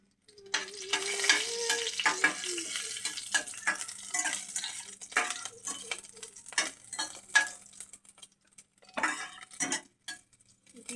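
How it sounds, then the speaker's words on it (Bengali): Black cumin seeds and a green chilli fry in hot oil, crackling and popping in irregular bursts with occasional stirring clinks of a utensil against the pan, close and fairly loud. "জিরাটা ফুটে উঠছে ভালো করে।"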